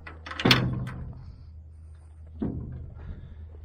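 A truck door is shut with a solid metallic thunk close by, followed about two seconds later by a second, softer clunk as it settles or is latched.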